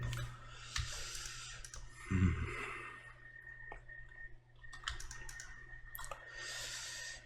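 Keyboard and mouse clicks while a long-exposure seascape photo is edited with a spot healing brush, coming as scattered, fairly quiet taps and clicks over a steady low hum, with a soft breathy rustle partway through.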